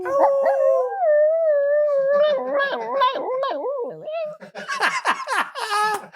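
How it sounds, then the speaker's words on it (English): A dog lets out a long, wavering howl that rises and falls, then breaks into yips while people laugh close by. "That is the most hilarious howl."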